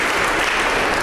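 Loud, dense applause from an audience at a children's assembly campaign and election event in Starehe sub-county, sustained steadily throughout without a break.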